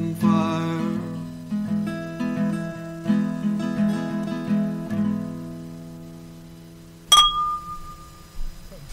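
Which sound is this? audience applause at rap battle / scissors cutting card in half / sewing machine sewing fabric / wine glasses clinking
wine glasses clinking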